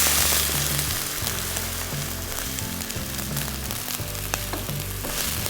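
Homemade stock poured into a pan of chopped onions, which keeps up a loud, steady frying sizzle for several seconds while an oyster sauce prawn starter is being made; music plays underneath and no one speaks.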